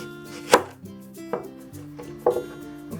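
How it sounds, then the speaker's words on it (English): A knife chops through shallots on a cutting board in three sharp, distinct strikes spaced about a second apart, close and clear over a faint background hum. "Next, let's cut the shallot."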